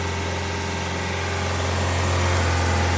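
A swapped ZC DOHC engine in a 1990 Honda Civic runs at a steady, loud idle just after starting, with a constant low hum and a faint rise in level near the end, and no voices.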